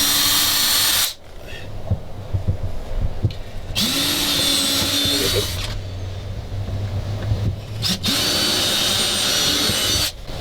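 A power drill bores a pilot hole to mount a console on a classic Boston Whaler Montauk during restoration, whining loudly in several bursts with brief pauses between them.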